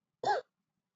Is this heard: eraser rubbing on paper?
no